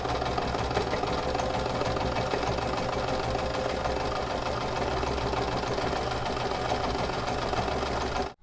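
A sewing machine runs steadily, stitching a topstitch seam along the brim of a felt bucket hat, a dense continuous whir close by with no pauses.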